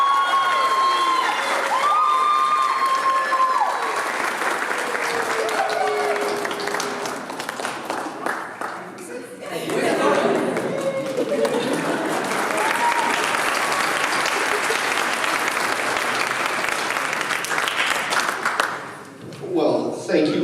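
Sustained audience applause with some cheering at a graduation convocation for master's recipients, a broad, loud crowd wash that dips briefly midway and near the end, with speech over parts of it.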